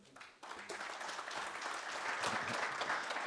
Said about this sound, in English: join me again in a round of applause for this very nice, powerful panel